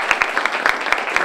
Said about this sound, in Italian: vi faccio un applauso pubblicamente per aver scelto lei